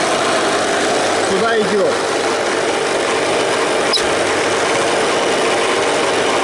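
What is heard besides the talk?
air compressor switched on, pumping air through a hose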